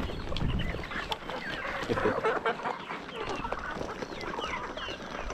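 Chickens clucking on a poultry farm, a busy chorus of overlapping clucks and squawks close by, continuous over light background noise.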